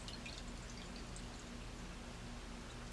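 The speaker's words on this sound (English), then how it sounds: "Then we put the water in our glass." Water poured into a glass, a steady close trickle and splash with faint dripping, heard on its own without talk.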